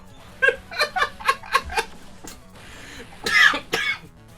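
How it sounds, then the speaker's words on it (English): A run of sharp, close coughs bursts out in quick succession, breaking into a wheezy, choking laugh and then a couple more loud coughing fits at the end. "Maybe you cough."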